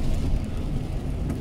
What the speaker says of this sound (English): It seems like the rain is getting heavier right now.